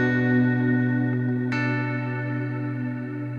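An electric guitar played through a BOSS GT1000 patch with a Strymon Cloud-style hall reverb rings out in a sustained, washy chord, with a single fresh pick attack midway blooming into a long, shimmering tail.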